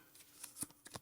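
Marvel Champions playing cards drawn from a deck one at a time in a quiet room, a series of soft, crisp card slides and flicks close up, with no voices.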